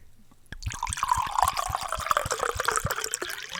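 A drink pours into a glass right by the microphone, starting abruptly and going on as a splashing fill with quick rhythmic glugs and a rising liquid tone, with no voices over it.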